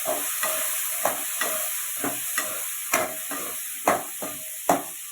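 Small tomatoes frying in a pan for a Tamil fish curry, with repeated scraping stirs over a steady sizzle, close and fairly quiet, no talking.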